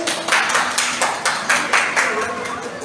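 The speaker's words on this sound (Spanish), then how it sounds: "un aplauso por favor para Raven" Audience applause for a cosplayer at a Joker cosplay group event, a crowd clapping with a few pronounced rhythmic beats rising through a steady wash of hands, with voices mixed in.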